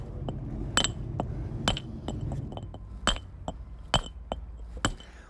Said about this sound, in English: you're chipping a little at a time